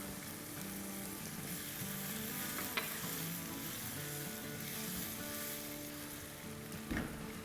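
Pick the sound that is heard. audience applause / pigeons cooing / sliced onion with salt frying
sliced onion with salt frying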